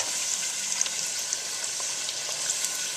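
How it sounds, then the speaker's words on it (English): Taco shells fry in hot oil, giving a steady, even sizzling crackle with small pops throughout, close and unbroken with no talking. "I'm going to finish frying these shells up"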